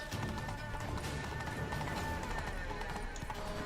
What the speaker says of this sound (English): Very suddenly, we're in a horse chase.